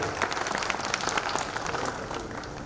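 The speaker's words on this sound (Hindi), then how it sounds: "जोरदार तालियां आप उनके लिए एक बार बजाएं" A hall audience claps steadily throughout, a dense and even round of applause from many hands with no one speaking over it.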